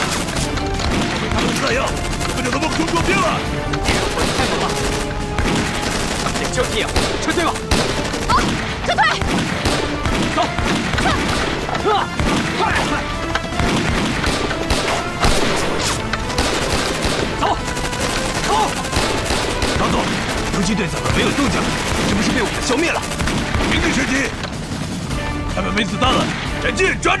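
A war film battle between the Chinese army and an enemy force fills the scene with dense, sustained rapid gunfire, bursts from submachine guns and crashing impacts, while voices shout amid the din.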